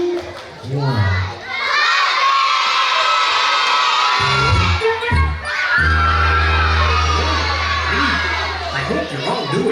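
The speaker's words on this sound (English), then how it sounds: "In 3, 2, 1, we're gonna yell puppets." A crowd of schoolchildren at a fire prevention event shouts together in one loud, sustained burst, their voices mixing into a cheering roar that fades and swells again, with a low adult voice heard in between.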